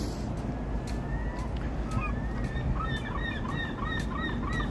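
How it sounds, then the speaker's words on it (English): Seagulls overwintering on a frigid January street in Chicago give repeated short, high squawking calls, scattered and mid-distance over a steady roar of city traffic and wind. "There's seagulls that won't migrate"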